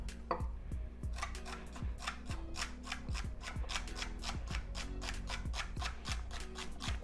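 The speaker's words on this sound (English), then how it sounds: "And then we're going to just dice it this way." A knife dices vegetables such as carrots for egg rolls, giving a steady run of sharp, close chopping strikes against a cutting board with a constant background hum underneath.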